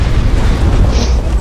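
A dense, booming blast from the slug rifle in the mech game Hawken rolls on continuously for a moment, loud and full with heavy low rumble and no talk over it.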